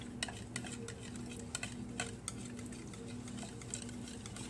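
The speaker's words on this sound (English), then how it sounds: "we're going to use that same whisk and we're going to carefully mix it together" A whisk beats wet pumpkin muffin ingredients in a bowl, producing quiet, rapid clicking taps against the sides over a low steady hum, faint and close throughout.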